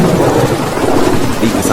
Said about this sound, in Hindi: एक बार बहुत तेज बारिश पड़ी।